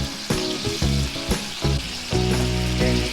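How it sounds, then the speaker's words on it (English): Chicken pieces frying in butter with soy sauce in a pan, a loud continuous sizzle broken by repeated crackling bursts and stirring knocks, close up with no talking. "that's why I'm frying it in the butter."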